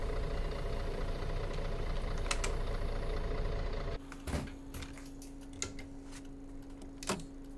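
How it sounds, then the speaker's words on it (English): Simulated MAN Lion's City city bus engine on a Munich route in OMSI 2, a steady idling drone with ticking, dropping to a quieter hum with a faint tone and occasional clicks after four seconds. "the engine sounds aren't great"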